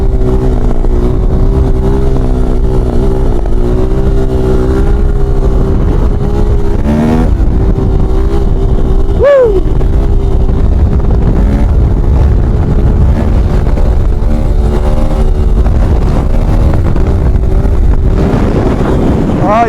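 A Yamaha 450 YZF motorcycle engine revs hard at full throttle for the whole stretch, its steady, loud roar rising and falling with gear changes, mixed with heavy wind buffeting on the microphone.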